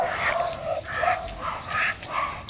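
A Belgian dog barking during training: a quick series of about five or six sharp, high yips and barks in close succession, loud and near, with no talk.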